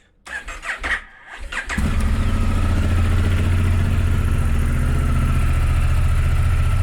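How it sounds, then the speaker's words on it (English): A motorbike engine, serviced for winter storage, cranks and catches, then settles into a loud, steady idle close by. Clicks and rustles come first, then about two seconds of starting effort, then a continuous rumble. "So now we'll start the bike."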